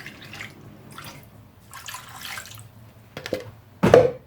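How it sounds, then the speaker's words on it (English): A short splash of water poured into a pot, preceded by faint kitchen handling noises, with a louder gush near the end. "Then just add a bit water."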